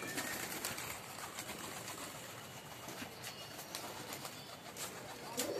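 Trained pet pigeons coo softly at a distance amid steady outdoor background noise, with a few faint flutters and calls scattered through.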